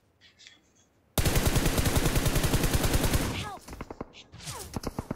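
Rapid automatic gunfire from the battle royale game BGMI rings out in a loud, fast burst lasting a couple of seconds, then gives way to scattered single shots and quieter game sounds.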